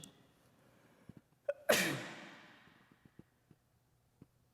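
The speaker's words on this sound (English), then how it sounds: "make sure to get a sneeze out." A single sharp sneeze bursts out after a quick inhaled gasp, its hiss trailing off, followed by a few faint clicks in a quiet room.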